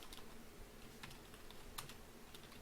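Quiet computer keyboard typing, a few scattered keystrokes entering numbers into QuickBooks, faint and close with no speech.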